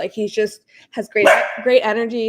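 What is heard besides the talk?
dog barking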